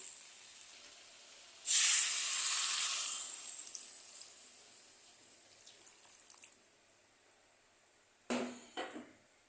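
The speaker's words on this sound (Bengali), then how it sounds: "এখন এখানে আমি উষ্ণ গরম জল দিয়ে দেবো" Warm water poured into a hot pan of lentil dal with vegetables bursts into a loud, sharp hiss that fades over a couple of seconds, followed by faint bubbling and a few brief clatters near the end.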